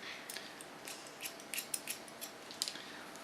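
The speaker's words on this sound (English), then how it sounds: "Start on top with a point cut technique and a deep one" Scissors snipping into hair with a point-cut technique on top of the head, a run of faint, quick metallic clicks over a soft background hiss, irregularly spaced and close by, with no voices.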